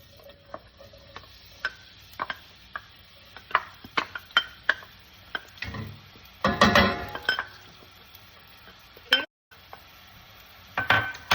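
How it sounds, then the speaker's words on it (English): A small onion drops into olive oil warmed on low to medium heat in a pan, giving a brief burst of sizzling among scattered light clinks and taps of utensils, with no talking. "Now the olive oil has been warming up for about a minute or so, and I'm going to start off by adding the onion"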